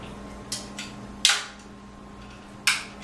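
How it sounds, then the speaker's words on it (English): A historic musket lock being drawn back to half-cock and then full cock, heard as a few sharp, close mechanical clicks, the louder snaps spaced over about three seconds with quiet in between and no speech. "that term came from this lock right here because there's a half-cock and then there's a full cock"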